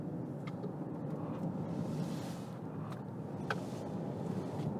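A 2020 BMW X5 45e plug-in hybrid SUV in sport mode carves through an S-bend, a steady muted cabin rumble of road and tyre noise with faint clicks and no speech.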